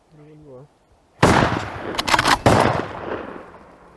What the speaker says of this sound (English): I'm gonna shoot, Pat.